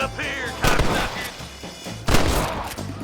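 Gunshots fire in a Red Dead Redemption western shootout, with two loud sharp blasts about a second and a half apart, each followed by a rumbling echo over ongoing game background noise.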